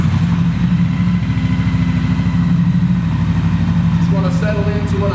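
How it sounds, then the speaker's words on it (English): A Triumph Bonneville Bobber motorcycle engine runs close and loud at a steady, throbbing idle, with a slight rise in pitch near the end. "So we fire up, we turn on the key, the instrumentation cycles, pull in the clutch, kickstands up."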